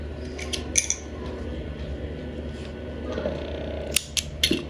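Scissors snip through crochet yarn in a few quick, close metallic clicks, separated by quiet handling and a low background hum.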